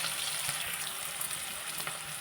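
Onions and ginger-garlic paste fry in hot oil for an eggplant curry, a steady close sizzle broken by soft scrapes of stirring, with no talk.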